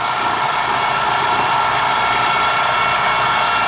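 A refrigerant recovery pump pulling liquid from an old 1994 Manitowoc HP81 ice machine, a loud, steady, unbroken mechanical whir and hum with no pauses.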